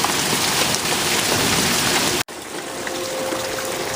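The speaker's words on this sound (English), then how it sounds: "I haven't seen this much hail in years." Dense, steady clatter of hail pelting outdoors, briefly cut off for an instant before the heavy downpour resumes.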